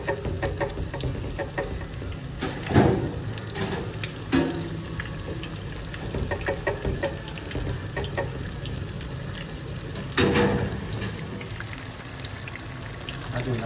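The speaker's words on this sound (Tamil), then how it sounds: "நல்ல மெதுவாக நீங்கள் இதை பொறிச்சு எடுக்குவோம்" Vegetable bhaji frying in hot oil gives a steady, dense sizzle with a few louder bubbling bursts and utensil scrapes, while a person speaks over it.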